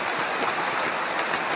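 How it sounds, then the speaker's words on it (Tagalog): Heavy rain pouring down in a Philippine forest, a dense, steady roar of drops with no pauses and no voices. "Inabot po kami ng ulan"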